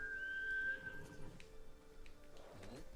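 A horse in the video game Ghost of Tsushima neighs loudly with a high, wavering whinny, then snorts and nickers more softly as the sound trails off.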